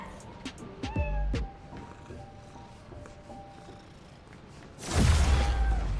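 A cat meows in the Spider-Man: Miles Morales video game, two short meows near the start, then a louder, longer caterwaul-like meow close up at the end, over quiet city ambience.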